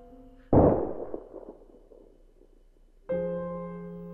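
A single loud gunshot bang with a long echoing decay, followed after a few seconds by a sustained musical chord.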